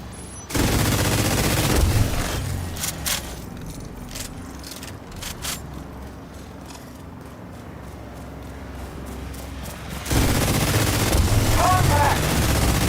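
Automated turrets fire bursts of video-game gunfire, a dense rattling fusillade that swells loudly at the start, thins to scattered shots in the middle, then surges again near the end, with game voices speaking over it.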